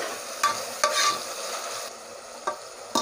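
Onions frying in a pan until golden for a chicken biryani, with a steady sizzle broken by several sharp scrapes of a spoon stirring them, close and clear with no talking.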